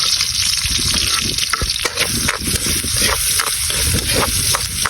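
Garlic and ginger sautéing in a pan for adobo sa gata, with a steady loud sizzle and occasional scraping stir strokes, no voices.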